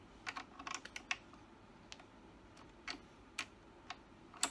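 Sharp clicks and ticks of a tool working a terminal on a Phoenix HD mobility scooter battery, a dozen or so irregular, close, faint taps spread over a quiet background.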